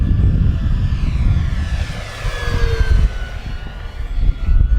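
FMS Version 8 Mustang RC model plane flying outdoors in wind: a continuous electric motor whine whose pitch sweeps down as it passes, over heavy wind rumble, moderately loud.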